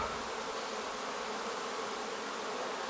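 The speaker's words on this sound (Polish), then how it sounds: "A dzisiaj jak widać pszczoły wykorzystały pogodę i wszystkie latają" A dense, steady buzzing hum of many bees flying all around the hives of an apiary, continuous and fairly loud with no talking.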